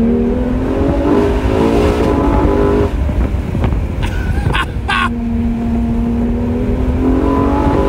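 Ferrari Monza SP engine revving hard through a string of corners, loud and close, with rising and falling harmonic tones as it accelerates and shifts, briefly interrupted by wind buffeting.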